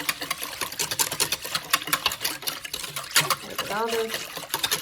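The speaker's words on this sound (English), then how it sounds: "And we whisk it so it's nice and smooth." A whisk beats instant pudding mix in a bowl, fast rhythmic wet scraping and clicking strokes that continue steadily while a person talks.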